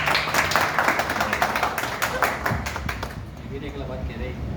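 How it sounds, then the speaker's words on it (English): Applause with scattered clapping from an audience at a hotel's 20th anniversary celebration, a dense run of claps that thins out toward the end, with crowd chatter mixed underneath. "Can you go a round of applause again?"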